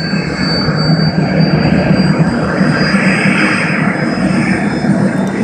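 A Lama helicopter's big turbine engine runs at South Lake Tahoe airport, a loud, constant roaring whine with a steady high tone held throughout.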